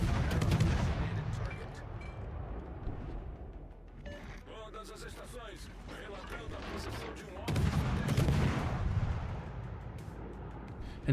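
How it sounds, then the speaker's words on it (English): Warship guns firing in World of Warships, heavy booming salvos at the start and again near the end, with a quieter rumbling stretch between and game voice sounds in the middle. "I have to shoot my guns"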